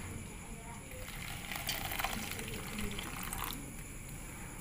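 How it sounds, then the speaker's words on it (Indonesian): Hot water poured over a catfish bait mix containing crickets, a soft steady splash and trickle close by, fairly faint and continuous for a few seconds. "Dan langkah selanjutnya kita siram pakai air panas."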